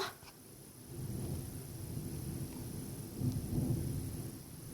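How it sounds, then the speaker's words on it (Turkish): Thunder from a lightning strike in the Minecraft video game rolls as a low, continuous rumble at moderate level that swells slightly toward the end. No talk is heard over it. "Şimşek çaktı."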